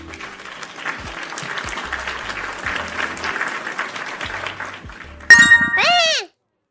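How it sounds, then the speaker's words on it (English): A stream alert plays an applause sound, a burst of clapping over background chatter that is cut off by a loud chime and a rising ding at the end. "why are you applauding me?"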